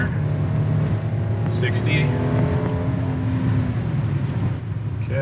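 A 2023 Hyundai Palisade accelerates at full throttle on snow, its engine drone steady and close inside the cabin while someone talks over it.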